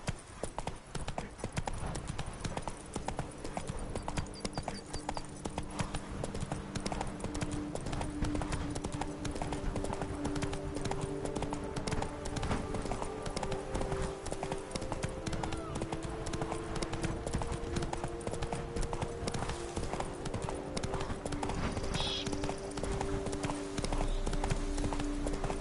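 Roach, a horse in The Witcher 3 game, clip-clops steadily and continuously at a walking rhythm, hooves clear over a dense game soundscape with sustained ambient tones throughout.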